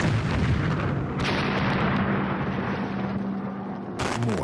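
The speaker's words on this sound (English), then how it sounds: "More sparks and heat ignite another tank. And then another." Fire blasts roaring through an oil refinery as gasoline storage tanks ignite one after another, a sustained heavy rumbling roar with thumping bursts at the start and end, loud and dense throughout.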